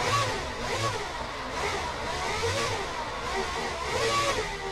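A Formula Drift car engine revs repeatedly, rising and falling in pitch in several bursts, fairly close, with no talking.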